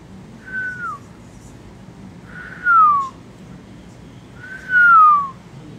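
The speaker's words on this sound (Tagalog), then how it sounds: "Marunong na ako sumipol." A person whistles three short descending notes, each a quick sliding tone separated by pauses, fairly close against a quiet indoor background.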